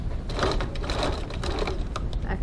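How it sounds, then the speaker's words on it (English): Sewing machine stitching the seams of a crossbody bag at a 2.4 stitch length: a close, steady rapid chatter of needle strokes with slight pulsing, running throughout without talk. "So now we're going to stitch these two seams"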